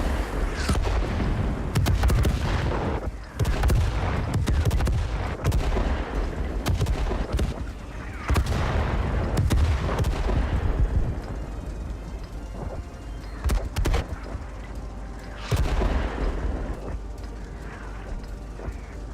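Artillery fire in the tank battle video game World of Tanks, heard as a series of loud, booming shots and crashing impacts with mechanical clanks between them, spread unevenly across a dense, continuous battle soundscape without talk.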